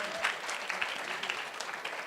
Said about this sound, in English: round of applause for Rimi as well